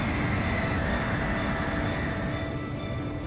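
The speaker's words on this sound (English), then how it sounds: "The transport plane is ready for an emergency landing." In Ace Combat 5, a transport plane comes in for an emergency landing, its steady, loud engine roar and broadband rushing noise filling the whole span without talk.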